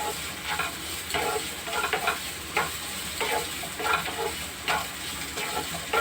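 Snake gourd sizzles steadily in a hot pan with mustard while a spatula stirs and scrapes it in rhythmic strokes, close and continuous without speech.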